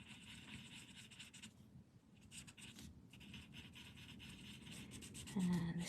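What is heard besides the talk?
eraser rubbing out a drawn line on paper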